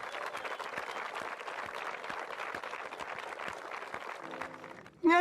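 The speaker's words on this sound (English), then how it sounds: "Give yourselves a round of applause." A bootcamp group claps together, fairly close, in a burst of quick, overlapping hand claps that stays busy throughout before a sudden loud, tonal sound cuts in at the very end.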